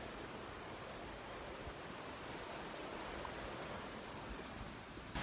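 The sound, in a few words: strong waves crashing against the shore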